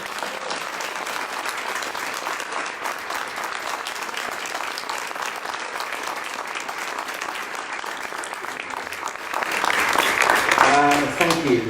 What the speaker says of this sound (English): to you, a big round of applause.